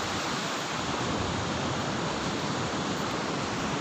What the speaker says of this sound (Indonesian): Ini ombak pantainya, teman-teman bisa lihat ombak pantainya juga cukup besar ya.